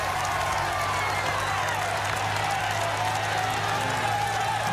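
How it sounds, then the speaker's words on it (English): A roadside crowd at a Tour de France stage from Bourgoin-Jallieu to Aubenas applauds the passing riders, a steady wash of clapping and crowd noise heard from a short distance and holding even throughout. "They're just looking forward at the riders and applauding."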